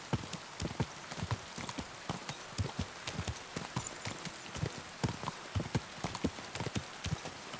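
Horse hooves clip-clop steadily along a path in Kingdom Come: Deliverance II, a brisk regular rhythm of close, distinct hoofbeats over a faint rain-like background hiss.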